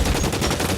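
Gunfire in the video game L.A. Noire, a dense, continuous burst of rapid shots filling a brief moment, loud and close.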